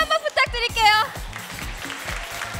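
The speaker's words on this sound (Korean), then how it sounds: "네, 엄청난 박수 소리가 터져 나오고 있습니다." An audience at a 2014 FIFA Championship esports tournament applauds the Common finalist team. A loud announcer voice comes first, then steady, moderately loud clapping fills the rest.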